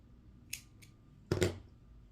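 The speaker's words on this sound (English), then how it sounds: "So I'm going to cut my yarn super long." Scissors snip through crochet yarn, two light clicks followed by one louder, longer cut, close and alone in a quiet room.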